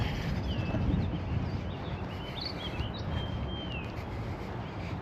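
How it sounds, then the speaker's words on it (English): Birds chirp faintly in Eastwood Park in Dayton, Ohio, thin scattered whistles and tweets at a distance above a steady outdoor background rumble. "Can hear the birds are going there."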